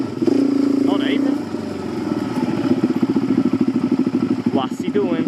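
A motorcycle engine idles steadily with a low, even throb and some clatter, fairly close, while people talk over it.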